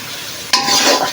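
Cubed potatoes hit a hot pan of spice paste with a sudden loud sizzle that swells and holds for the rest of the moment, close and bright.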